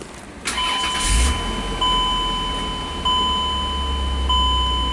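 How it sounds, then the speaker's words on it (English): A Chrysler/Dodge vehicle engine cranking and catching, then settling into a steady idle, close and loud, with thin electronic tones pulsing in the background. "Now, we can just start the vehicle, see if it lights up."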